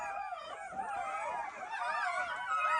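Newborn puppies whimpering and yelping in a continuous high, wavering chorus after a long birth, several thin voices overlapping close by with no talk.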